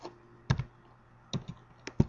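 Keys tapped on a computer keyboard while entering chord shorthand into Band-in-a-Box music software: a few separate close, crisp clacks, some in quick pairs, over a quiet background.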